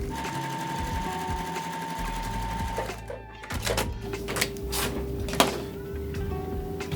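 A sewing machine stitching quilt pieces together, with a fast rhythmic mechanical whir in steady runs, then a brief stop and handling clatter, while a person talks throughout.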